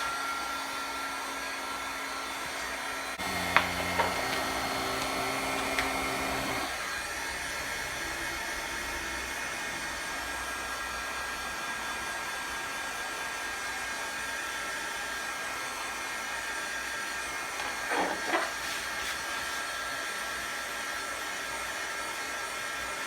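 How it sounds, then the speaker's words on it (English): A heat gun blows hot air steadily onto headlight tint vinyl, a continuous close, airy whoosh with its motor whine shifting slightly in pitch a couple of times as it is moved around. "Heat gun."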